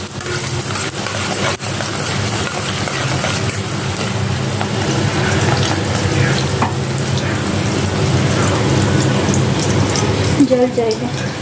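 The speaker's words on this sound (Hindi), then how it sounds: "तो अभी मैं प्याज को फ्राई करके डालूँगी" Onions fry in a pan with a steady, close hiss and crackle that runs throughout, joined by occasional stirring scrapes and brief clatters.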